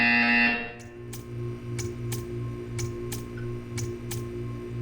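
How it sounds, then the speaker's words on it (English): In the video game Portal 2, a loud tonal buzzer sounds at the start and cuts off, followed by steady, evenly spaced ticks over a humming electronic drone. "You will hear a buzzer."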